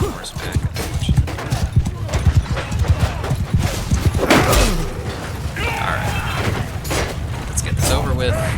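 Steady clip-clop of horse hooves in the video game Mount & Blade II: Bannerlord over a busy mix of clanks and crashes, with talking running throughout.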